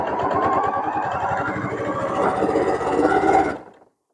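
A Janome Continental M7 sewing machine runs with a steady, rapid mechanical stitching rhythm and motor hum, close and fairly loud, for about three and a half seconds before cutting off abruptly.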